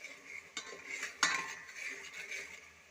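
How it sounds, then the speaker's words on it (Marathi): Ground spice paste stir-fried in a pan for a spicy cauliflower bhaji: a spoon scrapes and clinks against the metal pan in uneven strokes over a faint, low sizzle. "आता आपण हे वाटण छान गुलाबी रंगावर परतून घेणार आहोत"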